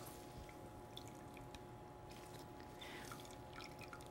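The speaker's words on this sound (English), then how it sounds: "slowly wringing and slowly squeezing to extract all of the liquid and to filter out all of the pulp" Homemade almond milk drips and trickles as the pulp is wrung and squeezed through a filter, a faint, continuous patter of liquid with scattered small drops and no talking.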